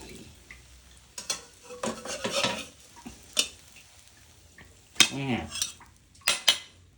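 Thai omelette of beaten egg sizzling in a pan while a metal utensil stirs and scrapes, with sharp clinks and clatters in uneven bursts over a faint frying hiss, close and loud.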